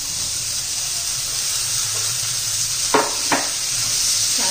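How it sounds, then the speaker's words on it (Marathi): Finely chopped green beans frying in oil, a steady loud sizzle with a couple of brief stirring scrapes, close and without talk. "छान असं या तेलामध्ये परतून घ्यायचे आपल्याला"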